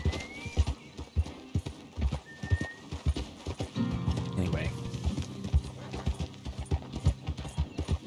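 Close, rhythmic hoofbeats from a horse in the Red Dead video game clop steadily, broken midway by a long neighing whinny, while someone talks over the sounds.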